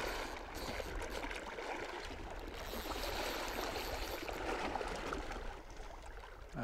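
Strong river current flowing around a wading fly angler fishing for cutthroat trout, a steady broadband rush of water, constant and fairly close with no talk.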